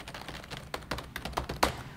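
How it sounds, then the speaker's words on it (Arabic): Rapid, loud keystrokes clack on a mechanical keyboard, a dozen or so sharp taps in an uneven typing rhythm, close up with no talking. "هذا الصوت بالذات لما يكون عندكم لوحات مفاتيح ميكانيكا الصوت فيها عالي"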